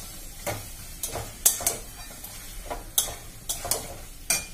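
Chicken frying in a pan sizzles steadily at close range while a utensil stirs and scrapes it in irregular clinks and taps, with no one speaking.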